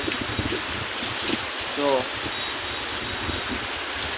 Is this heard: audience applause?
no